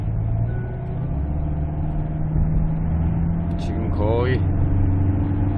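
A 2023 Hyundai Staria van accelerating on the road, its engine and road noise a loud steady rumble with a brief rising whine near the end, while someone talks over it.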